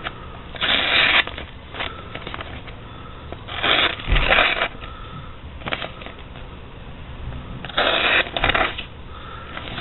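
Paper ripping and tearing under a Mora 511 knife blade that snags on a burr rather than slicing, heard as several rough crackling bursts at irregular intervals, close and fairly loud, with no speech.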